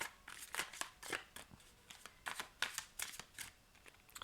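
Tarot cards are shuffled and handled close by, giving quick papery riffles and soft slaps in an irregular rhythm, quiet and without speech.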